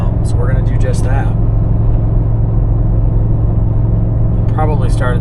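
Ford F-250 Godzilla truck climbing a 7% hill, a steady loud low engine and road drone filling the whole stretch, with someone talking briefly at the start and again near the end.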